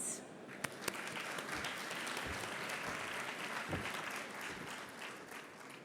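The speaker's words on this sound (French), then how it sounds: "je vous demande d'applaudir bien fort Adrien Leroux" A conference audience at an energy-transition and DPE event applauds steadily, with dense, sustained clapping that holds at an even level for about six seconds and carries no speech.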